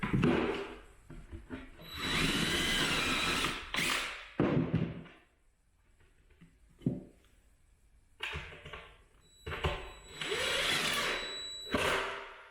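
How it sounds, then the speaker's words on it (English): Loud power drill bursts, several long whirring runs with pauses between, pre-drilling and driving screws into wood cabinets up close. "I just have to pre-drill them."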